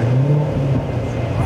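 A Corvette Stingray with the Z51 package, rated at 460 horsepower, revs up close by in a brief, loud, steady engine roar with no distinct pauses.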